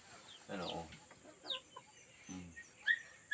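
Chickens in a farmyard cluck in short, scattered bursts at moderate distance, with brief pauses between calls and some quiet voices now and then.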